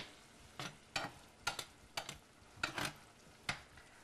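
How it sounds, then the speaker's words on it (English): A spoon stirs seasoned taco meat in a pan over low heat, making about seven close, rhythmic scraping strokes over a soft background sizzle, with no speech. "get myself a spoon so I can stir that a little bit better"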